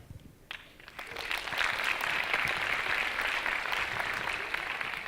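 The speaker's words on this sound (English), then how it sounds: "How about another round of applause for Ryan?" A conference audience breaks into sustained applause for a speaker named Ryan after his talk, dense clapping swelling after a brief quieter opening and holding steady to the end.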